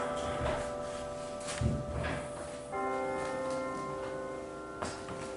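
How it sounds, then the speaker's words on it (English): Church bells ring nearby with sustained metallic tones that hang and overlap, and a fresh strike about midway renews the chime, mixed with faint handling knocks and light background noise. "Those bells will get old very quickly."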